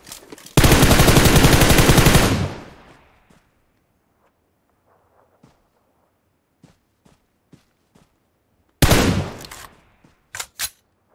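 Loud bursts of automatic gunfire in a video game: one long burst near the start and a shorter one near the end, with faint footsteps and small clicks in the quiet stretch between.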